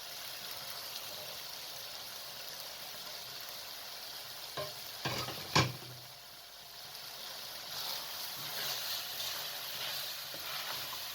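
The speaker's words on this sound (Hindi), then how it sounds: "अब आप इसके अंदर गोभी को शामिल कर दें।" Cabbage stirred into a pan of sizzling keema curry with potatoes, a steady frying hiss with a few scraping spoon strokes midway, close and alone.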